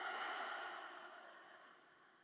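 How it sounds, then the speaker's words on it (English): A slow, steady exhale during yoga breathing, soft and close, a breathy hiss that gradually fades over a couple of seconds with no talking. "take a really slow exhale"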